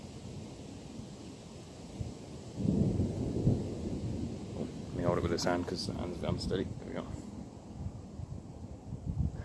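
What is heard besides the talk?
thunder rumbling during an approaching thunderstorm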